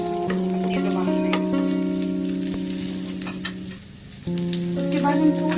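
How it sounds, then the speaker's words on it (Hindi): Potatoes sizzle in hot oil in a pan while being tempered, a steady close crackling fry that runs throughout beneath sustained musical tones. "हम आलूओं को तड़का लगाएंगे अपने अपनी ज़ुबान में।"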